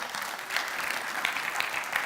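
A church congregation applauds during a Spanish-language sermon, a steady dense wash of many hands clapping at once, moderately loud and continuous without a clear rhythm.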